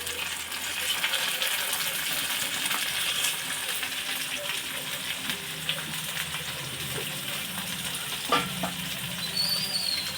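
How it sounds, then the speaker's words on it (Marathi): Onion and finely chopped tomato fry in oil for masala pasta, a dense continuous sizzle with faint stirring and scraping throughout, close and fairly loud, with no talk. "कांदा थोडा परतू द्यायचा तेलामध्ये कांदा थोडा परतला की बारीक चिरलेला टोमॅटो टाकायचा आहे"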